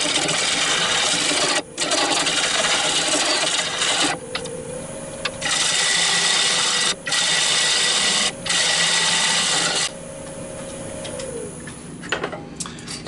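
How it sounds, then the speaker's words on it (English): A wood lathe turns down the tenon on a walnut live-edge crotch bowl, producing a loud, continuous scraping hiss of cutting broken by several short pauses, with the motor humming underneath. "I'm gonna turn the tenon down to the size I want"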